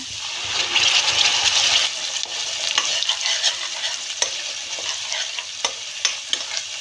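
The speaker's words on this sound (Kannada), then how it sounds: "ಈ ಮಸಾಲ ಹಸಿ ವಾಸನೆ ಹೋಗೋವರೆಗೂ ಈ ಎಣ್ಣೆಯಲ್ಲಿ ಫ್ರೈ ಆಗಬೇಕು" Masala for egg kaima sambar frying in oil with onions, giving a loud, close, continuous sizzle punctuated by scraping stirring strokes, the hiss easing slightly after the first couple of seconds; no one speaks.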